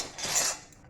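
Fried Chettinad thaen kuzhal murukku pieces tipped into a container of rice, giving a short, brittle clatter of crisp pieces falling together, close and moderately loud, with no talk.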